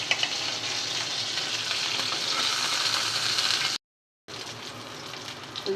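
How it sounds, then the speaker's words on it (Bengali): A tilapia fish tail crisps in hot oil in a pan with a loud, continuous sizzle that cuts out briefly partway through and then resumes, with no talking. "লেজটা আর একটু কড়া করে ভাজবো"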